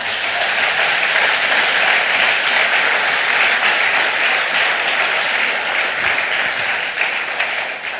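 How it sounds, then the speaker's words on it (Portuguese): A church congregation applauds loudly and continuously, a dense close wash of clapping that holds steady and fades slightly at the end. "Você pode aplaudir, irmão?"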